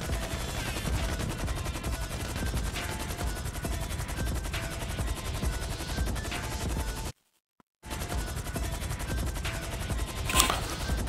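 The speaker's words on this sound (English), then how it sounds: "He's machine gunning them." Continuous light machine gun fire from a passenger shooting during a vehicle cargo airlift in GTA Online, dense rapid bursts filling the whole stretch with a brief dropout near the end and a sharper crack just after.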